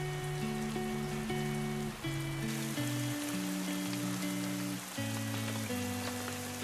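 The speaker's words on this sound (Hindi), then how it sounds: "बाहर बारिश हो रही है।" Steady rain patters in the background beneath soft, melodic music.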